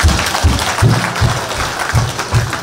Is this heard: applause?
yes